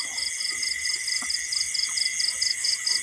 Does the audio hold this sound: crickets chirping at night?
yes